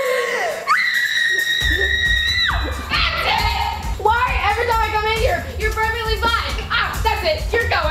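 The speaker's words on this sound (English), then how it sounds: "If that kid screams..." A child screams loudly and shrilly in sustained high-pitched bursts indoors, with shouting and excited voices mixed in throughout.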